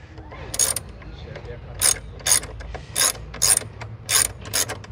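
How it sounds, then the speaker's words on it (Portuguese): A ratchet wrench works bolts loose from the fairing of a Kawasaki Versys 650 motorcycle, giving six or seven short bursts of rapid metallic clicking, close and fairly loud, with pauses between them and no talk. "vamos usar com, com a chave catraca, que é mais fácil"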